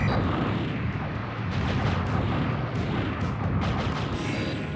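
Rocket launcher fire in a mecha combat game, loud repeated heavy blasts and rumbling explosions layered over a continuous roar, close and dense for several seconds, with no speech.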